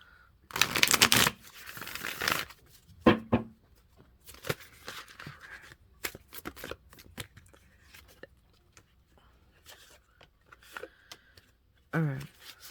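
Tarot cards being shuffled by hand in bursts of crisp riffling and flicking, loud at first and then softer, with brief pauses and taps between bursts and a voice speaking briefly.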